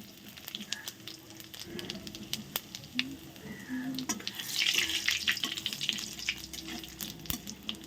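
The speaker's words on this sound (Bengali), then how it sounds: "এখন পনিরের জন্য ফোড়ন দেব দেখো দুটো শুকনো লঙ্কা এই যে দিয়ে দিলাম গোটা তেজপাতা এই দেখো দিয়ে দিচ্ছি গোটা জিরে" Dry red chillies, a whole bay leaf and cumin seeds tempering in hot oil for a paneer curry, giving a soft crackling sizzle with scattered clicks and pops and a brief louder spitting burst midway.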